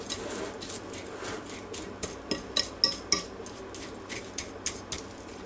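Egg and milk mixed with leftover dressing in a dish, stirred with a utensil that clinks and taps against the sides in a quick cluster of sharp knocks over a faint background hiss, close by and without speech.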